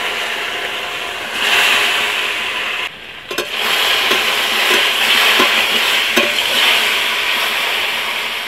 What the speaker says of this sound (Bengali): তেল আমার গরম হয়ে গেছে, তেলে আমি সেদ্ধ কচুমুড়াগুলো উঠিয়ে দিচ্ছি